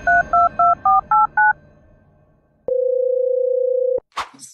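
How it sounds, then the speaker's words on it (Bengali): Telephone keypad dialing: six short, evenly spaced two-tone beeps, followed by a pause, then a steady tone lasting over a second and a brief clatter at the end, loud and with no voices. "দিন নাম্বারে ফোন দিয়ে দেখি"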